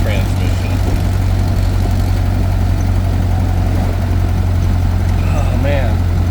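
A 1928 Ford Model A race car with a 4-port overhead valve head conversion idles in a steady, loud, low rumble, with faint voices mixed in.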